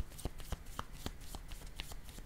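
Tarot-style picture cards handled and shuffled, a few soft, faint papery flicks and taps close by in an uneven rhythm, with no talking.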